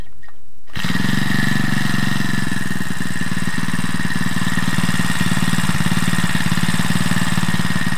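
A Champion T334FS four-stroke engine runs steadily during carburetor adjustment, a loud close idle with a rapid even putter that starts abruptly after a brief quiet opening, no talking.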